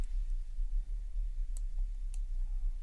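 Two sharp, isolated mouse clicks about half a second apart over a low steady hum, while a user works in the CapCut video editor.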